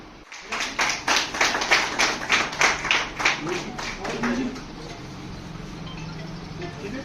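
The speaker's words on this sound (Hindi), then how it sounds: "तो इन सारे स्टूडेंट्स के लिए पर जोरदार तालियां।" Loud applause from an audience at a school function in Nawalgarh, honouring students, with dense rhythmic clapping for about four seconds before it fades into a murmuring room with background voices.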